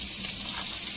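Paneer cubes sizzle and fry in butter masala in a pan, a steady, close, crackling hiss with no voices.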